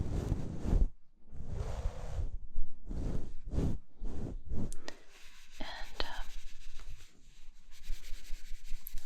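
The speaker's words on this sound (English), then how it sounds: "Brushing this little box." Soft, airy brushing strokes of a fluffy pen sweep across a small box, several slow swishes with brief pauses, close and gentle, followed by light tapping and handling.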